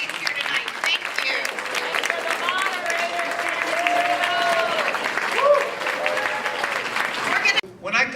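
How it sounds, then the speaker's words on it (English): Audience at a Democratic candidates' debate in Maryland applauds steadily for several seconds, a dense wash of clapping with a voice speaking over it and a brief break near the end. "How about a big round of applause for everyone, all the candidates here tonight."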